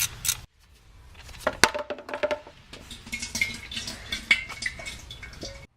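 Engine oil draining from the oil pan of a full-size supercharged Range Rover, heard as sparse, clicking drips and small splashes into a catch container after a brief louder pour at the start.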